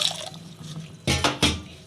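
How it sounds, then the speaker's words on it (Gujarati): Cold water splashes and pours in two short bursts into a pot, close by, after a brief quieter trickle. "આમાં આપણે ઠંડુ પાણી થોડુંક નાખશું"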